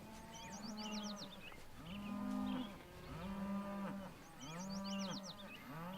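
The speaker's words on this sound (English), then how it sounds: "these cows are healthy. They're not overweight. They're just, you know, they're just happy cows." Several cows on a Lone Pine farm moo in long, loud calls, overlapping in rhythmic waves over about six seconds, with brighter high calls from more animals sounding in the background.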